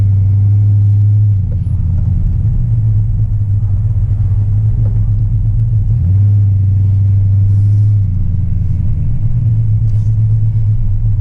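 An LS V8 engine with a throttle hang fault idles roughly with a loud, low rumble, the idle sagging and surging as if about to stall, steady and close with no talking.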